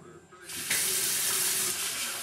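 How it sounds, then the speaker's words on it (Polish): Cold tap water runs steadily from a kitchen faucet, starting with a rush and holding a loud, continuous hiss while a protein shake is being prepared. "wleję zwykłą wodę kranową, odpuszczoną, zimną."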